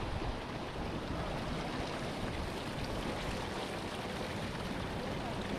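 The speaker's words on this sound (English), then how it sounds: "That whole shallow pool is bubbling." A shallow hot spring pool at Furnas in the Azores, bubbling and trickling as warm water dribbles in from the side, a steady close wash of gurgling water with no clear breaks.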